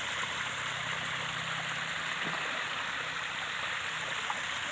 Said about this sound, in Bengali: ঝর্ণা বয়ে গেছে।